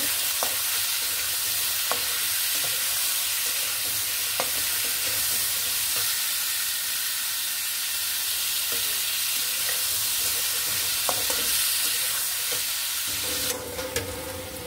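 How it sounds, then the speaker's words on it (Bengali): Potatoes with salt and turmeric frying in a pan, a steady close sizzle with occasional scrapes and clicks of stirring, continuous and loud throughout. "এবার আলুটাকে একটু সুন্দর করে ভেজে নেব"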